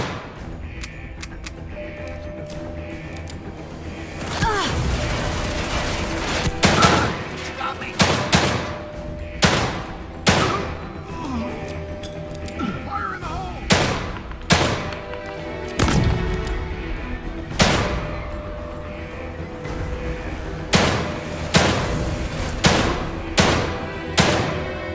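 Rapid bursts of gunfire in the survival horror game The Evil Within 2, loud sharp shots and volleys repeating through a tense alarm-laden scene, with voices shouting in places.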